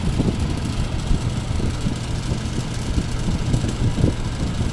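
Vintage Country Aire C-122 window air conditioner running on its high setting, a steady low motor hum and fan rush with a loose control knob rattling continuously throughout.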